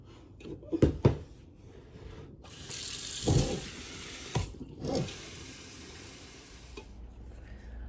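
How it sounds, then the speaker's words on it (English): Running water pours steadily into a cooking pot, a broad hiss with a few clanks and knocks of handling near the start and midway. "we're just going to fill this up with some water and get it to boiling"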